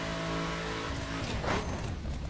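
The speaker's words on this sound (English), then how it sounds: "Oh, way over revved." Game car engine in The Crew held at high revs, a dense sustained harmonic whine that drops away midway as a broad rushing burst swells, loud and continuous throughout.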